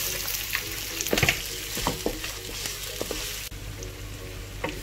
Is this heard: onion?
yes